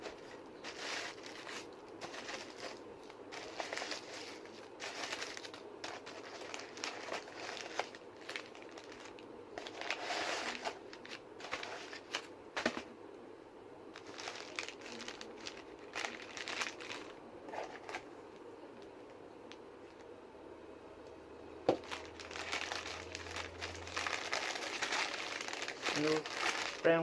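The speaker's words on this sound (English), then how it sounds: "Little brown paper bag." A small brown paper bag from an eBay package crinkles and crumples in bursts of rustling while a toy car is unboxed, fairly close, with faint background sounds between handlings.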